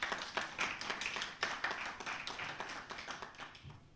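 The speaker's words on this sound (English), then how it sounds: "Could we just give him another round of applause?" A small group claps for a minister at an online webinar, a sparse, uneven patter of individual hand claps at moderate level that trails off toward the end.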